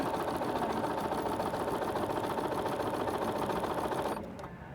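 A Bernina B790 sewing machine stitches fabric in a fast, steady close-up whir that runs continuously, then stops abruptly near the end, leaving a quieter hum.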